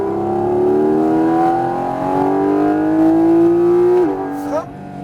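A Porsche GT4 RS engine revving hard on a racetrack, pitch climbing steadily through a gear, then dropping sharply at a shift before easing off, loud and close from the cabin, with a voice urging on the driver over it.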